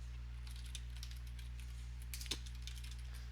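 Soft keystrokes on a computer keyboard, faint and irregular, tap out short bursts with a slightly louder click near the end over a steady low hum.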